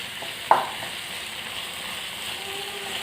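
Kerala-style beef roast fries in a ceramic pan, a steady soft sizzle and hiss with a single brief stirring clack near the start, close and even throughout, with no talking.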